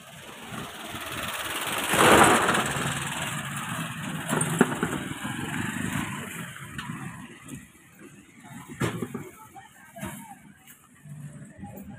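A motorcycle engine rumbles at a distance, rising briefly then settling, heard amid outdoor ambience with a rooster and occasional clicks.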